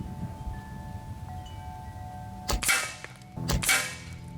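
Two sharp shots from a Crosman Magfire Extreme .22 air rifle about a second apart, each a crisp crack with a brief ringing tail, over a steady low background hum.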